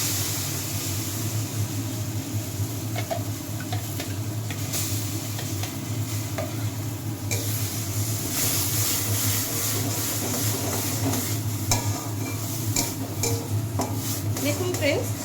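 A bottle gourd peel paste is stirred with fried onions in a pan, making close, continuous scraping and clinking of a utensil against the pan with a faint sizzle underneath.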